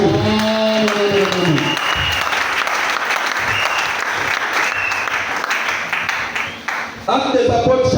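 A church congregation applauds loudly and steadily, a dense sustained clapping that fills the space, with a voice and some singing-like tones near the start and end.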